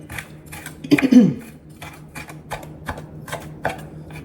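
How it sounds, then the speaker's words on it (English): Crispy pieces chopped with a knife on a board make a quick run of sharp, close taps and crunches, with one louder cluster of clattering strokes near the start and lighter, evenly spaced chops after it. "We're going to just chop this up. These are nice and crispy."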